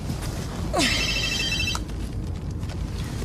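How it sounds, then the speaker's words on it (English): Telephone ringing in an Australian police station: one loud electronic trill burst, near and clear, with voices talking around it. "Detective Hashem's phone?"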